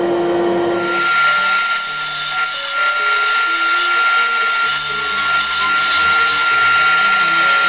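Power drill boring holes in cherry wood for a Breton spoon rack, a loud continuous whine with shifting pitch that runs steadily through the stretch, close up with no talk.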